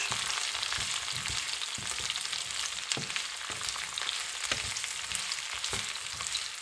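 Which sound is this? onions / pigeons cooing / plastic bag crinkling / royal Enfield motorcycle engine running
onions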